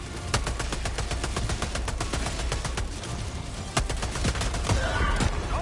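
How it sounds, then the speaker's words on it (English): Rapid gunfire and repeated sharp blasts from combat in the Helldivers video game as grenades are thrown, dense and continuous with louder explosive hits standing out near the end. "Throwing grenades now."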